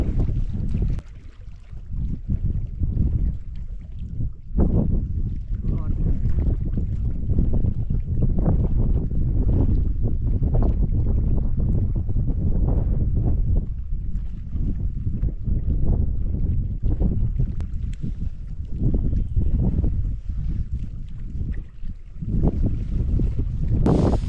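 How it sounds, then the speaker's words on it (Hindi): Strong gusting wind at Parvati Sarovar, a high mountain lake near Adi Kailash, roars steadily into the microphone for the whole span, loud and continuous with surging buffets and no talk. "यहाँ पे इतनी हवा चल रही है कि यहाँ पे अगरबत्ती जलाना भी टास्क है"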